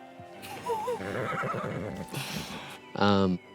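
A horse neighs loudly near the end, a short whinny that follows a stretch of overlapping conversation from several people.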